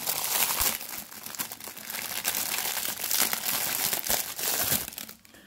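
Plastic packaging for a simple face-washing brush being torn open, a steady close crinkling and crumpling that runs almost continuously with brief louder tugs, no voices.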